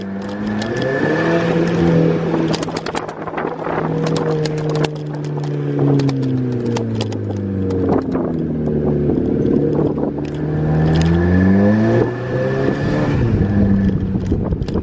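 A Volkswagen MK5 GTI fitted with a KO4 turbo and DSG gearbox drives steadily after a repair, its engine droning loudly and rising and falling in pitch through gear changes, with no talk over it.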